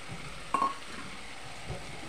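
Potatoes dropped into a pan of hot oil and spices with tomatoes, cooking for a curry-leaf-tempered fish jhal, give a brief burst of frying sizzle and a soft stirring scrape over a steady low hiss of oil.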